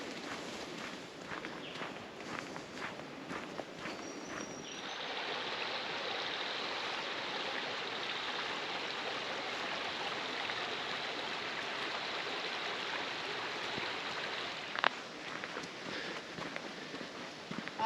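Footsteps splashing through the shallow edge of a stream on the Bibbulmun Track, a steady run of soft crunching steps over flowing water, close and fairly quiet, with a louder splash near the end.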